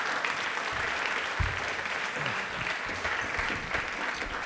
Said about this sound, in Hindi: तालियां इनके लिए एक बार जोरदार हो जाएं।